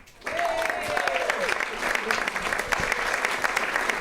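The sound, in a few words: concert audience applause welcoming the singer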